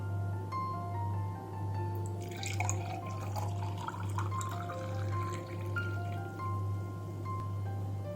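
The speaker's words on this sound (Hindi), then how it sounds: "अब हम एक ग्लास लेंगे और उसमें ये पानी डाल देंगे।" Strained water pours steadily into a glass for a homemade cold and cough remedy, a splashing trickle that starts after a quiet moment and runs on over a low constant hum.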